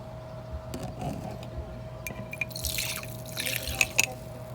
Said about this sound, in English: I have my lemon mixture, but I'm going to strain it in there